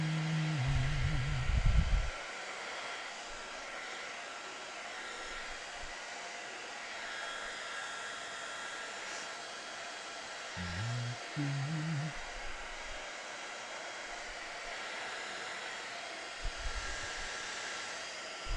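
A hair dryer blowing steadily to dry paint on a painting, a constant close whoosh with a few brief low clunks and shifts in tone.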